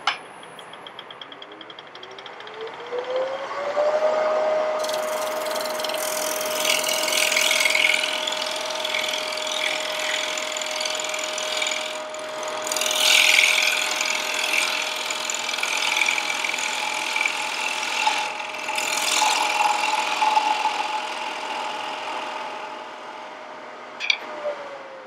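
A wood lathe spins up with a rising hum and then holds a steady whine while a freshly sharpened turning tool takes final cuts on a wooden plate, with scraping and rasping bursts coming and going over the motor tone.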